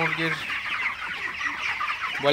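Broiler chickens in a poultry shed cluck continuously as a dense flock, a busy, close chorus with no pauses.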